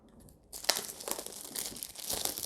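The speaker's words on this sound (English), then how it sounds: "So satisfying, that plastic coming off" Plastic wrap being torn and peeled off a boxed oracle card deck, close crinkling and tearing that starts after a quiet half second and continues in irregular bursts, no talk.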